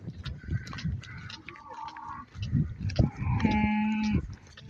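A cow moos in open countryside in the Auvergne lakes and volcanoes region, giving several drawn-out lowing calls at moderate distance, with faint background noise between them.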